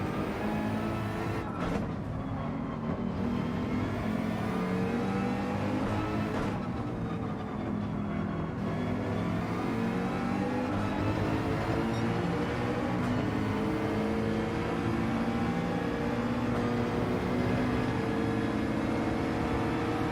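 Porsche race car engine in the Gran Turismo 7 racing game, a continuous loud roar with rising and falling pitch through gear changes and acceleration, sustained throughout without talk.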